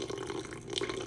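Tepid, warm tap water running for sourdough dough, a steady close splashing stream with bubbly gurgling texture, continuous and moderately loud with no voices.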